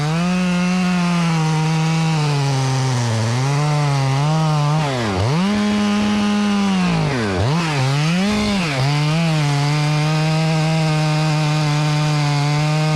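A chainsaw cuts into a silver maple, making the hinge on the lean side of the tree. The engine holds a steady, loud, close drone, with two brief dips in pitch as the chain bogs in the wood before revving back up.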